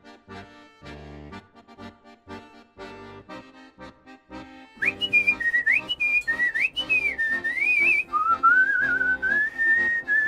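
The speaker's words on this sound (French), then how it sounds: "Moi, quand je pilote, faut que je sifflote." Someone whistles a lively tune up close, the melody wavering over plucked instrumental backing that starts sparse and then grows fuller.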